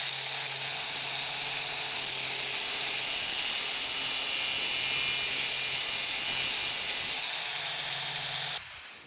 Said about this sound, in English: I'm also going to kind of use my grinder to bevel out a little area in those there where I want to lay some braze down